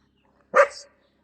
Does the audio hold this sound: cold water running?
no